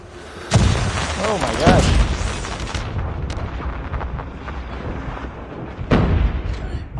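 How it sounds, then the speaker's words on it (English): Thermite grenade from a hardpoint-mode video game shooter, heard as a sharp booming burst followed by a hissing, crackling burn, with a second thudding blast later amid game noise and an excited voice talking over it. "Oh, that's a thermite"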